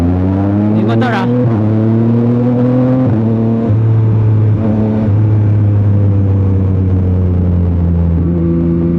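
A motorcycle engine drones steadily close by, its pitch shifting up and down through gear changes, with a rider's voice speaking over it.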